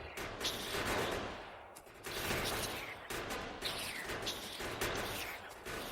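Turrets in the video game Factorio fire in dense, continuous bursts of rapid gunfire with mechanical clatter. The volley is loud and sustained for several seconds, with brief dips between waves.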